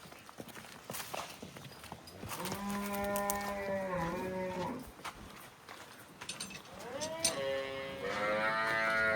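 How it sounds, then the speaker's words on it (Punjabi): A large cross-breed dairy cow lows twice, long drawn-out moos heard up close against a quiet farm background with faint hoof shuffling between calls. "ਵੱਡੀ ਗਾਂ ਹੈ ਕਰਾਸ ਦੀ।"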